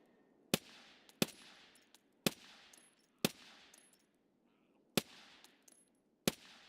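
Rapid gunfire in Escape From Tarkov during a zombie event: six sharp, loud shots in quick succession, each followed by a brief echoing tail, roughly evenly spaced.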